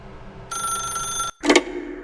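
An old-style telephone rings in The Stanley Parable, a steady electronic bell tone lasting under a second before a short clatter and a voice.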